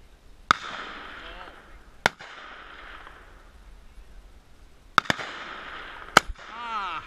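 Several sharp, loud M1 Garand rifle shots ring out at an outdoor CMP high-power range during an offhand stage, spaced irregularly with two close together near the end, each followed by a brief echo over quiet range ambience.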